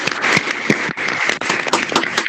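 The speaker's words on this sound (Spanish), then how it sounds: "Vamos a despedirlo, aunque sea desde lugares tan distintos, con un fuerte" An audience gives a strong round of applause to bid farewell to a retiring law professor, dense continuous clapping from many hands that stays loud and even throughout.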